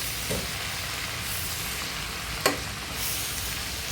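Chopped spinach fries in oil with a steady, close sizzle while being stirred, a sharp utensil clink against the pan standing out midway.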